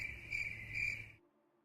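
Cricket chirping sound effect in an online game session: a steady, high insect trill pulsing twice over a low background hum, then cutting off abruptly into near silence.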